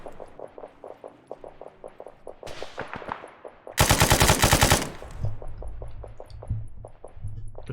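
Automatic machine gun fire in the military video game ArmA: steady, rhythmic single shots give way to a dense, loud burst of rapid fire, then slower repeated shots with a low rumble beneath.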